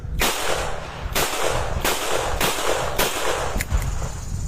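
A .38 revolver firing 56-year-old cartridges outdoors, five loud sharp shots at roughly one-second intervals, close by, with a sixth fainter report near the end and no talk.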